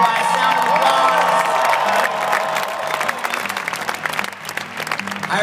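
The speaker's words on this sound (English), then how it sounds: "By a sound of applause." An audience bursts into loud applause and cheering, dense clapping with whoops and shouts from many people, the roar gradually thinning toward the end.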